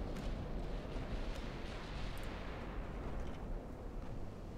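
Battleship gun salvos, including 8-inch guns, and incoming fire in the naval game Ultimate Admiral: Dreadnoughts, heard as a dense continuous rumble of booms and blasts with no voice over it.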